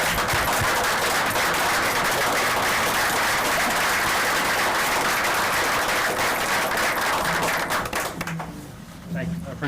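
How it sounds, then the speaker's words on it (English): Council meeting attendees give Nick a sustained round of applause, dense and loud clapping from a room full of people that continues steadily before thinning out at the end, with a few voices coming in at the close. "let's give Nick a round of applause"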